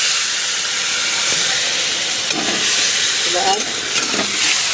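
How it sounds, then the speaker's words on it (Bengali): Garlic and ginger paste with Kashmiri chilli powder and other spices fries and sizzles steadily in a pan for a rui fish kalia, loud and close, with occasional scraping as it is stirred and a brief word spoken. "মশলাটা কষা হচ্ছে"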